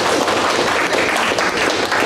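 Steady, dense applause from a meeting audience at a speech competition, filling the whole moment at a loud, even level with no pause.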